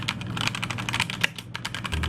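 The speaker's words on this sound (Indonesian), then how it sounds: "RGB lighting di keyboard ini juga mantep banget sih." Rapid, steady keystrokes clatter on an RGB-lit computer keyboard, a close and continuous run of crisp clicks with a few louder taps and no talking.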